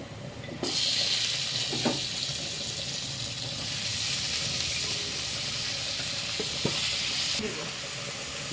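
Mixed vegetables tossed into a pan with turmeric and frying at home: a steady hiss of sizzling starts suddenly and holds, with a few soft stirring knocks, fairly faint and close.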